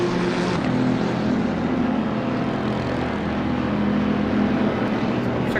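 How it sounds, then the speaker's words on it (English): Helicopter hovering in a PC car-racing video game, a steady low droning engine and rotor hum that holds loud and constant throughout. "Check out this helicopter."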